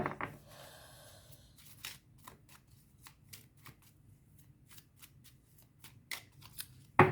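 Tarot cards shuffled and cut, a steady run of crisp riffling flicks and slaps repeating alone for several seconds, ending in a sharper louder snap.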